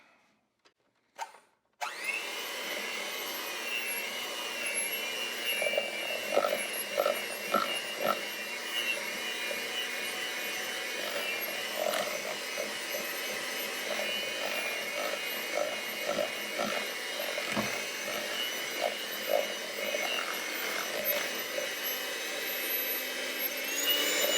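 An electric hand mixer whirs continuously as it beats cream cheese filling with powdered sugar and vanilla, the motor droning steadily with faint rhythmic knocks of the beaters against the bowl.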